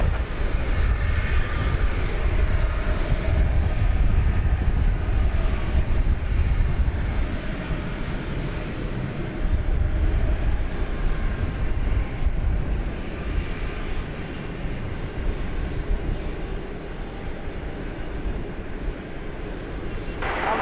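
An airliner roars at DFW Airport, a loud low jet rumble that swells near the start and again midway, then slowly fades.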